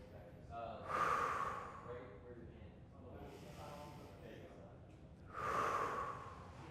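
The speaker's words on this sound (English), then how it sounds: "3 big deep breath cycles." Deep breathing during a floor stretching routine: slow, audible breath cycles close to the microphone, with two strong breaths and a softer one between them.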